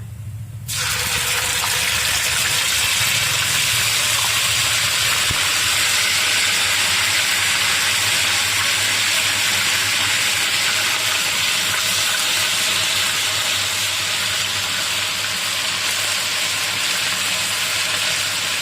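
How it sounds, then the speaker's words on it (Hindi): Garlic ginger paste frying in a pan with cumin, a steady loud sizzle and hiss that starts abruptly and holds evenly for the rest of the stretch, close by, with no talking. "लहसुन अदरक को 1 मिनट के लिए मैंने फ्राई कर ली है"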